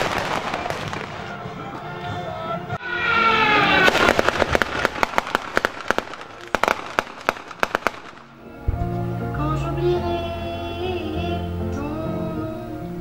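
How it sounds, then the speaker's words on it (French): Loud bursts of pyrotechnic explosions, cannon-fire effects and crackling blasts in rapid succession at an outdoor sound-and-light show in Gravelines, followed by a booming musical score with low brass swelling over the noise. "Les effets spéciaux comme le feu, les explosions, les tirs de canon ajoutent une part de réalisme."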